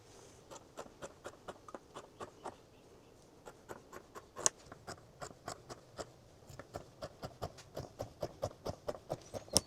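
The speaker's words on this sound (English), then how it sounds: "So you're going to make your marks there and cut out 2 rectangles of that size." Fabric rectangles for a beach towel zipper pouch being marked out and cut, a steady run of quick, crisp scratching strokes close by that speeds up toward the end, with no talk.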